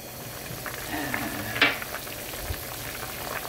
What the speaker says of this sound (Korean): 이제 센 불에 10분 정도 팔팔 끓여줄 겁니다